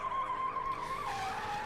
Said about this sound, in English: Following this, Akamatsu goes to kill himself by crashing his car only to cow it out.